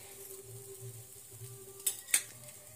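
Chapati roasting on a hot tawa, a soft low sizzle with a couple of sharp clicks of the pan or utensil near the end.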